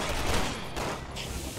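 Rapid, loud gunfire fills a short burst of Resident Evil 6 gameplay, dense overlapping shots running almost continuously from start to finish.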